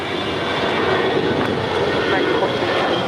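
A Delta jet takes off from runway 25 right at LAX with a loud, close, rushing engine roar that holds steady throughout, while a voice talks faintly underneath.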